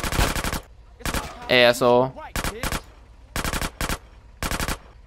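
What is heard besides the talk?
minigun gunfire in video game GTA San Andreas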